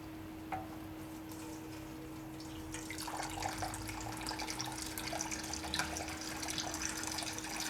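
Boiling water pours and trickles through an air compressor tank being cleaned, a steady liquid rush that swells after a few seconds amid faint drips, with a constant low electrical hum underneath.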